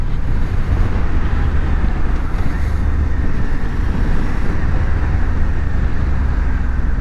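Suzuki V-Strom 800DE motorcycle engine droning steadily while riding through upshifts, a loud continuous low rumble mixed with heavy wind buffeting on the microphone.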